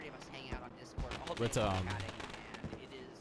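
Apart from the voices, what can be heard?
fireworks at the end of a race in the video game iRacing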